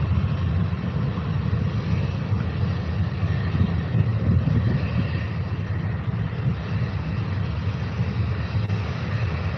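An Aer Lingus airliner at Faro airport, heard as a steady, loud low-pitched engine roar that holds evenly throughout without fading.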